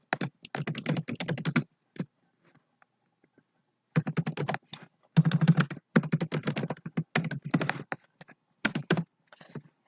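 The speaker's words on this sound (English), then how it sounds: "and type the name." Bursts of rapid typing on a computer keyboard as a file name is entered, close and crisp, with short pauses between runs of keystrokes and no talk.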